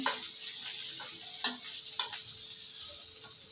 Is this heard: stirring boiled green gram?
yes